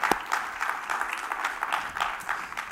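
Church congregation claps along in a steady rhythmic beat, moderately distant and somewhat soft, with a faint hum of voices beneath the even pulses.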